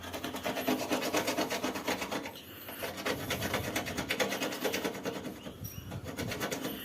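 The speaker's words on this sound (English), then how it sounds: "I'm just lightly scraping it to make sure not to scrape the metal." A metal screw scrapes tough dirt off a gas stove in light, repeated rasping strokes, close and steady, with a short pause midway.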